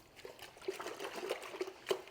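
Water trickles and splashes into a bucket during a car wash, a faint, uneven spatter of drops and small pours lasting about two seconds, heard alone without speech.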